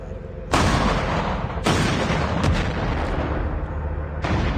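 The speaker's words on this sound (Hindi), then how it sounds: "अब हमारी बारी है फायर करने की" Heavy, booming gunfire from a helicopter or tank battle in Call of Duty Mobile, loud and sustained in long dense bursts with brief gaps between them and no talk over it.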